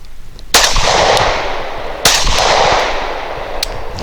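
Two sharp Canik TP9 Elite pistol shots fired during combat-style shooting, spaced about a second and a half apart, each a loud crack with a long rolling echo, plus a fainter pop near the end.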